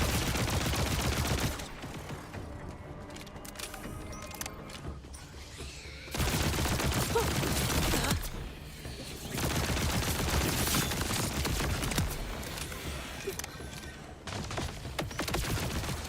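Rapid gunfire from a shooter video game, Borderlands 4, with dense bursts of automatic fire alternating with louder volleys throughout, loud and continuous with mechanical clatter in the mix.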